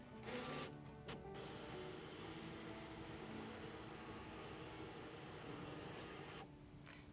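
A Brother ScanNCut machine scanning a paper pattern gives off a steady mechanical whir and hum that runs almost unbroken for several seconds. It sits at moderate level with no talking over it, then eases off near the end.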